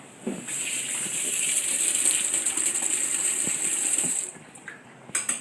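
Metal hookah tongs are rinsed under a running tap, giving a steady close gush of water for about four seconds with faint clinks, then the flow stops and a few drips and taps follow; nobody talks.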